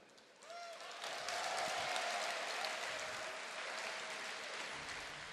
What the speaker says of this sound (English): You guys should give yourselves a round of applause.